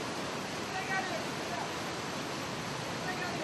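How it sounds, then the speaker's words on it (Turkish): A waterfall on the Karaçay hidden falls rushes in a steady, loud broadband roar with no breaks, heard close up. "Birinci şelaleye geldik."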